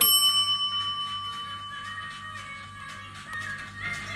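A small bell rings with a bright, sustained metallic tone that slowly decays, heard faintly over a quiet room murmur during a live online auction.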